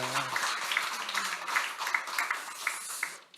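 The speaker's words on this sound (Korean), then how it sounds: "우리 격려 박수만 하겠습니다" A church congregation at a 42nd anniversary worship service claps in encouragement for the choir, a modest, uneven patter of hands with individual sharper claps standing out, and a low voice briefly at the start before the clapping fades out.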